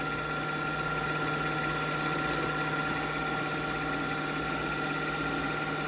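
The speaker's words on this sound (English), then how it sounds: "Now start your machine. and wind your bobbin." A Viking Jade 20 sewing machine runs continuously while winding a bobbin, a steady, even motor hum with no breaks throughout.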